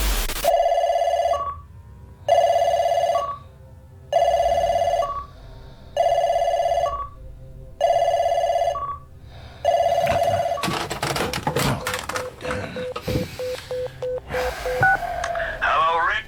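A telephone rings loudly in a steady repeating pattern of about six long ring bursts separated by short gaps, then gives way to crackling handset noise and breathy sounds.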